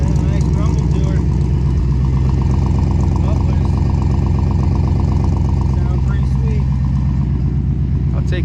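A 1955 Ford Crown Victoria V8 idles steadily on a rich-running carburetor, giving a low, continuous rumble close by with no voices over it.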